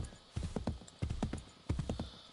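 Galloping horse hooves in Assassin's Creed III, heard as three quick bursts of several rapid clip-clop strikes each, moderately loud and close, with no talk over them.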